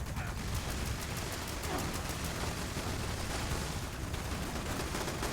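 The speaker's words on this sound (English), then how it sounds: "this is what's great about an explosive weapon is that I just shoot into the ground" Explosive weapon rounds fired into the ground in Fallout 76 make a dense, continuous barrage of blasts and crackling gunfire that fills the whole stretch at steady loudness.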